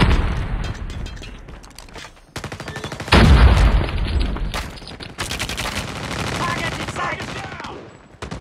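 Video game battle with rapid bursts of gunfire and a heavy grenade explosion, loud and close, continuous firing throughout, with brief voice callouts mixed in.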